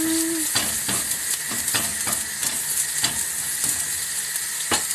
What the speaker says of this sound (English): little bit of oil. I put first my onion.